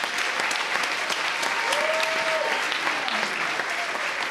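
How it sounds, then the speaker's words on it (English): An audience at a secondary school jazz band Christmas concert gives a steady round of applause, dense and continuous, with a voice or a whoop rising briefly above the clapping. "So one more time, a big round of applause for our admin team here."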